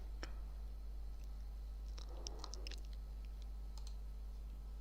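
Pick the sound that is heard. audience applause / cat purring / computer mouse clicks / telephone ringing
computer mouse clicks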